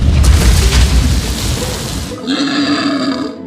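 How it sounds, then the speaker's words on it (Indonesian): A deep, rumbling explosion roars for about two seconds, followed by a lingering ringing, tonal tail as the blast fades. "tiba-tiba terdengar suara ledakan"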